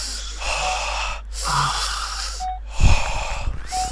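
Deep, wheezy breaths drawn in before an airlock in the Minecraft game Alien: A Crafters Isolation, several separate inhales with short pauses between them and a low thump near the end.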